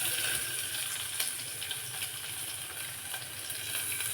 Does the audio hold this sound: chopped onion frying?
yes